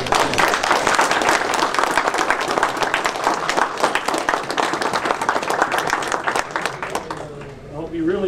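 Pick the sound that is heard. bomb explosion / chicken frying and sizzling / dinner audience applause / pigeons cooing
dinner audience applause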